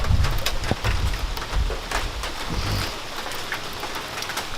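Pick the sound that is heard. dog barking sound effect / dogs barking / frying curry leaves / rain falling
rain falling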